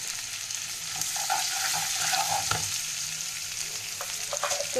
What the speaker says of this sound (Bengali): তো পেঁয়াজটা ফোড়নের সঙ্গে ভাজতে ভাজতে এর মধ্যে একটু পরিমাণ মতো নুন দিয়ে দেবো।